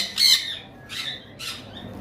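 Lovebirds and conures, mutation-colour pet birds, give three sharp, shrill squawks about half a second apart, each a loud burst over a faint, steady background murmur.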